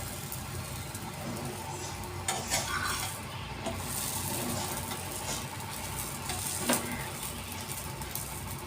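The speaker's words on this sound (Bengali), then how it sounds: "এদিকে আমার পরোটা ভাজা হয়ে গেল" Paratha frying in a pan with a constant moderate sizzle, broken by a few light scraping and stirring knocks.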